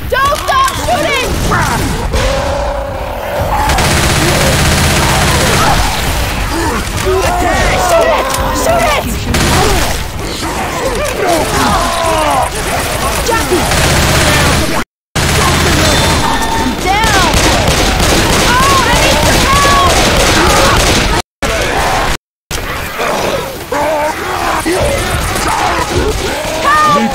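Sustained gunfire in Left 4 Dead 2 during a competitive tournament match, rapid overlapping bursts and shots with crashes, loud and nearly continuous, briefly cut out twice, with players shouting over it.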